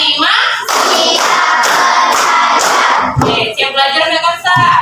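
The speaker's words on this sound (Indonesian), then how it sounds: "Tepuk 1, tepuk 2, tepuk 3, tepuk 4" A classroom of students claps hands together in a counting clap game, producing a few loud bursts of group clapping in quick succession, close and energetic, followed by softer scattered sounds and voices.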